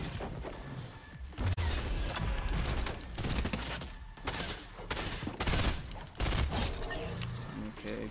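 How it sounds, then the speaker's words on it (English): Gunfire rings out in a Fortnite match: loud bursts of rapid shots in several volleys, separated by brief pauses, close and sharp. "you get some easy shots off on people"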